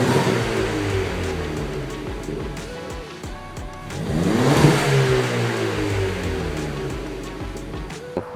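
A 2015 Ford Fiesta ST with an FS Works 2.5-inch sport exhaust revs, its engine tone rising and falling in a loud swell near the middle over a steady running drone.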